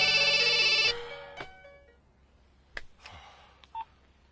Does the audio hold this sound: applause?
no